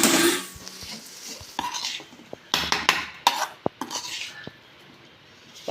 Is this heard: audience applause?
no